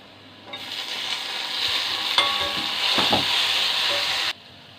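Onion and tomato fry and get stirred in a pan for a sweet corn and taro dish, with a steady hiss of sizzling and a few scraping stirs and knocks, close and moderately loud, with no speech.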